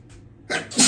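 A person gives a short, sharp sneeze while seasoning smoked beef neckbones with paprika, a quick burst of air after a faint intake, close and loud, with a second breathy puff right after.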